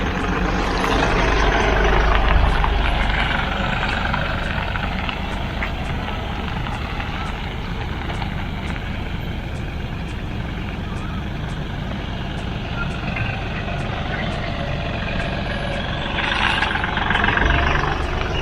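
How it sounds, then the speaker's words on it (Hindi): A car in reverse gear creeps backward on the clutch alone with no throttle, a steady low engine drone with a faint repeating tick throughout, alone without talk. "रिवर्स गियर पड़ा हुआ है, क्लच पे छोड़ूंगा, गाड़ी पीछे जाएगी"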